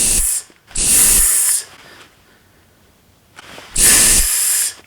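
Foot spray hissing from an aerosol can in three separate bursts, two close together near the start and one more after a quiet gap, each loud, sharp and close, with no talk.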